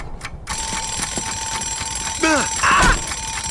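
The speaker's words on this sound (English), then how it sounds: "Even though there's no real logic behind Zane being unbothered by the alarm, it just makes sense." An alarm rings in the Ninjago cartoon, a loud, steady, high electronic tone that runs throughout, with a couple of chirping, swooping effects over it toward the end.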